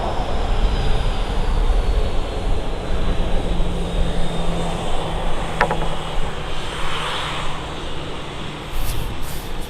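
Airliner taxiing fast at Manchester Airport and then passing by, a loud, steady outdoor jet engine roar heard from a distance with wind noise and a brief rise as it goes past.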